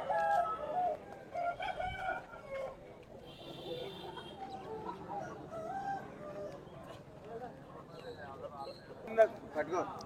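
At a Saturday country chicken market, a rooster crows and fowl cluck and chatter amid a crowd of talking voices, with the birds' calls coming and going under the steady hum of conversation.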